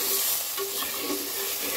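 Spices frying in a pan hiss and sizzle steadily as a little water goes in, a short burst of bright crackling with light stirring noise.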